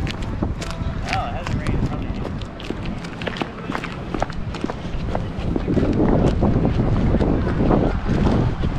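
Low rumbling engine and water noise of a tour boat underway on Lake Travis in Austin, with wind buffeting the microphone and faint voices in the background.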